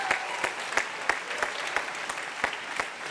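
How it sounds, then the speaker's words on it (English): Audience clapping at a high school fall choral concert, a moderate round of applause with distinct individual claps standing out in loose rhythm. "I feel like that's a good clap moment."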